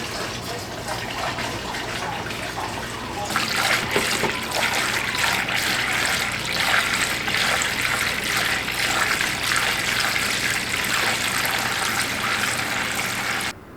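Homebrewed wort for a Belgian wit being poured slowly into a fermenter: a steady splashing, gurgling stream that swells louder after a few seconds and runs continuously until stopping abruptly at the end.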